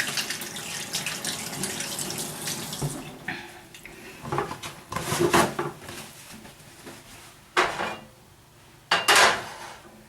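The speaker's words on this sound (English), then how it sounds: "I'll wash my hands" Running tap water splashes over hands at a kitchen sink during tuna and edamame salad prep, a steady broadband rush broken by sharper bursts and splashes as the hands move under the stream, close and fairly loud.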